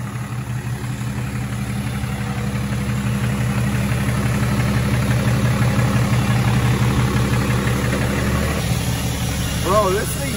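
A 2018 Ram 2500 pickup truck engine running close by, a loud low steady rumble with a throbbing vibration, rising slightly in the middle, while people talk over it.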